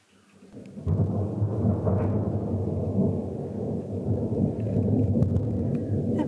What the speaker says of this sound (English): I wasn't expecting thunder.